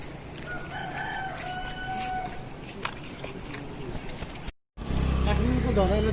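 Chickens and a rooster at a poultry farm in Gaudakot, Baglung, Nepal, crow and cluck faintly at a distance over outdoor background noise, followed by a brief cutout and a louder rumble.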